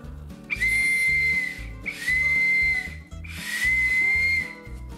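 A large plastic toy whistle from a Chinese surprise egg is blown three times, each a loud, shrill steady tone lasting about a second, with clattering underneath.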